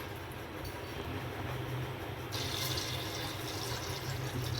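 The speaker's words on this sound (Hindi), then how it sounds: "अब पानी डाल रही हूँगी।" Water pours steadily into a pressure cooker holding guar beans for a Rajasthani sabzi, making a continuous close rushing hiss that brightens partway through as the flow changes.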